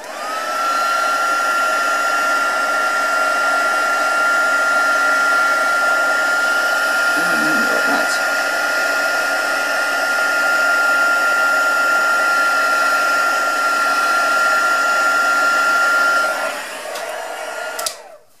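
A heat tool blows hot air steadily while card making, a constant loud whirring hum with a high whine that runs almost the whole time before switching off near the end.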